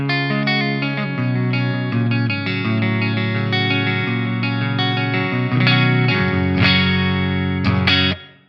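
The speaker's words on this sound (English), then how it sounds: "I'm using the Mark IIC clean channel for the clean setting on this patch" Electric guitar through a Fender Tonemaster Pro on the Mark IIC clean channel: a clean, sustained melodic line of notes and chords, close and steady, ending in a couple of sharper picked notes before cutting off.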